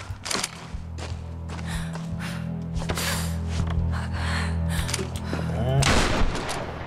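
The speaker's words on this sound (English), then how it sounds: "Shooting it again." Gun shooting in the video game Tomb Raider: sharp shots ring out at irregular intervals over a low droning background, with a brief scraping rattle near the end.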